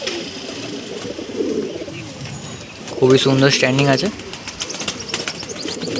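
Andhra pigeons give one short rolling coo phrase partway through, close by, while someone talks over a low background murmur.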